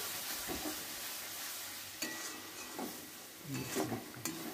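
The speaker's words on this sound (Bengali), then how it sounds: "আবার কিছুক্ষণ মশলাটা কষিয়ে নেব।" Chili, coriander and cumin spice paste fries in a pan with a soft continuous sizzle, broken by a few scraping stirs and light clinks of a spoon against the pan, fairly quiet and close.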